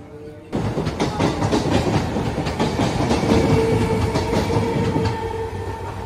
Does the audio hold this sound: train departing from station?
yes